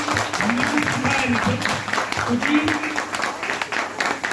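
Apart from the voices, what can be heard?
audience applause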